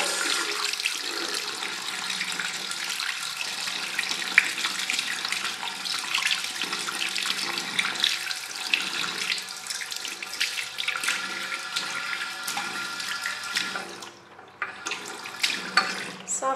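Water pours steadily into a toilet bowl after a cleaning pellet was left overnight, a continuous loud rushing and splashing that runs for about fourteen seconds before thinning out near the end.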